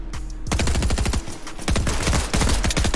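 Rapid gunfire in an online video game sounds as dense, loud bursts of automatic fire, with a short quiet gap before nearly continuous shooting fills the rest, and no voices over it.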